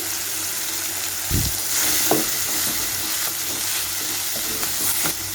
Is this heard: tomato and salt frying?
yes